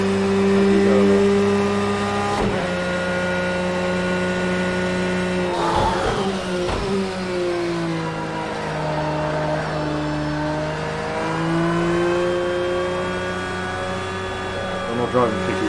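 A racing car engine in Project Cars 2 drones and revs, its pitch climbing and dipping through gear changes, with a few sharp bumps over a steady, loud mechanical hum.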